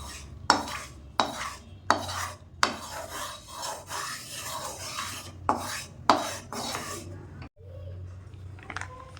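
A spoon scrapes and rubs around a karai (wok) coated with a tablespoon of ghee, giving repeated rasping strokes in a steady rhythm, close and moderately loud, ending with a short pause and lighter scrapes.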